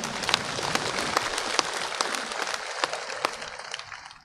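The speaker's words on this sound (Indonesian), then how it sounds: "Tepuk untuk diri sendiri." Steady applause from a crowd, a dense patter of claps with sharper individual smacks, fading slightly toward the end.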